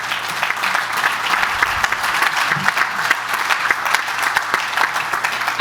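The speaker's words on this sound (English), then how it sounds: "yeah, give him a hand clap." A conference audience applauds the mayor of Detroit, steady dense clapping from a large crowd throughout, loud and continuous without a break.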